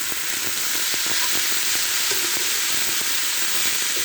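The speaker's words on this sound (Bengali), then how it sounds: "শুধু এভাবে নেড়ে ধীরে ভেজে নেব" Potatoes frying slowly in a pan for bhaji while being stirred, giving a steady loud sizzle with faint repeated scrapes of the utensil underneath, close and continuous.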